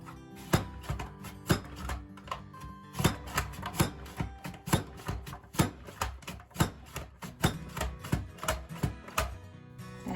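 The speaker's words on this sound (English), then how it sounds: "I'm just going to add a potato down in there and then press this down and it will start chopping it up" A Rapid Prep mandolin chopper presses a raw potato into fry-sized sticks, giving quick, crisp chopping clacks in an irregular rapid series, close and fairly quiet, with no talking.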